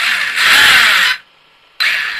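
The electric motor of a Hobao SC8 RC car spins up with a loud, high whine, cuts out abruptly for about half a second, then whirs again, close by with no talk.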